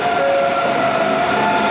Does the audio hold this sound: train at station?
yes